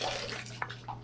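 Well-water tap running into a sink while aquarium parts are rinsed, a brief steady rush of water with a small splash, close and fairly quiet over a low hum.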